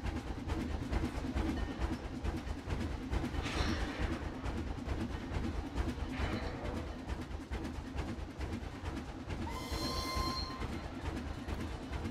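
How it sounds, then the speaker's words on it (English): A train in the Planet Coaster park game rolls past with continuous rumbling wheels, rhythmic clatter and brief high squeals, loud and close throughout. "Oh, there's a train. Wait, where's the train? I hear it."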